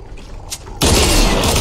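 Video game squad match with a sudden loud burst of gunfire that cuts in after a quiet moment and continues as dense, sustained booming shots, with a voice faintly heard beforehand.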